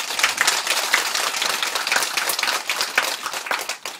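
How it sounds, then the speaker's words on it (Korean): Audience applause for a senior Buddhist monk at a lecture, a steady dense wash of many hands clapping throughout, fairly loud and close, with no voices over it. "우리 큰 스님을 위해 큰 박수 한번 쳐주세요."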